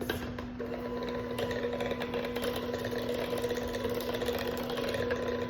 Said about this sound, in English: Let's give it a mix.